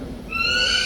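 A single loud, shrill bird call rises suddenly with strong ringing overtones, brief and close, at a night safari in Singapore.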